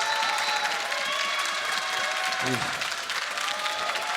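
Live esports crowd at a League of Legends match in Berlin applauding steadily, a dense, loud wash of clapping with some cheering that holds for the whole stretch.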